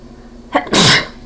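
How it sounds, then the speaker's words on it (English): A single sharp sneeze, a quick intake followed by a loud explosive burst, close and alone in a quiet room. "I had to sneeze."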